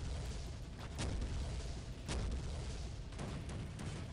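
Rocket launcher explosions sound in the Soldier of Fortune video game: a few dull booms with sharp bursts, fairly faint, over a steady rumbling background without talk.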